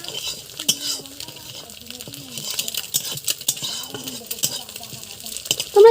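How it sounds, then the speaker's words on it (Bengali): Beaten egg with salt and turmeric is scrambled in a pan, with quick scraping stirs and light metallic clinks over a soft sizzle, and a voice speaking briefly in the background. "ডিমটাকে আমরা এরকম কুচো কুচো করে ভেজে নেব"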